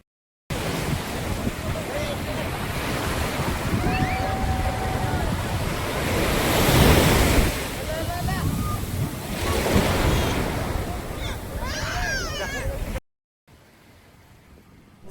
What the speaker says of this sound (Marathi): आता हे जे लाट आले ना पाण्याची